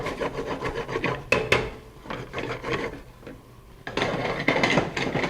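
Garlic and crab meat being stirred in a pan, with a wooden utensil scraping and rubbing close up in irregular strokes over a soft sizzle.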